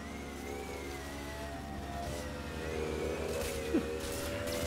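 Motorcycle engine revving steadily in GTA V, a continuous mid-pitched drone with harmonic whine that swells and slides in pitch, with a brief sharp blip near the end and no talk.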